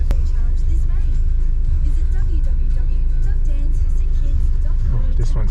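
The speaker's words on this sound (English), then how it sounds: "we're going to practice some slalom in the Mini JCW and M2" A Mini JCW and a BMW M2 drive a cone slalom at a driving experience course, engine rumble droning steadily throughout with voices talking over it.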